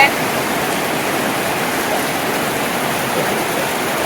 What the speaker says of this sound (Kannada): ಏನ್ ಮಳೆ ಹೊಡಿತಾ ಇದೆ